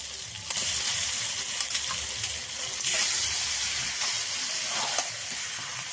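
Marinated chicken frying in ground spice paste for a country-style chicken curry, a loud, close, continuous sizzle and hiss with brief sharper crackles and scraping stirs.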